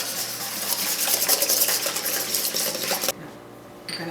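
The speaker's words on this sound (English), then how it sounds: "4 large eggs. And we're whipping those up." Four large eggs whisked for pumpkin pie filling, a steady fast scraping and clinking of a whisk against a bowl, close and continuous, then abruptly stopping with brief quiet before a light clink.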